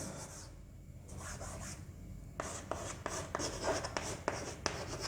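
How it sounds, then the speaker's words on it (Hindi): Marker or chalk writing the word isotope on a board in a chemistry class, quiet scratchy strokes in short irregular bursts with brief pauses, faint and close. "देखिए मैं लिखता हूं आइसोटोप।"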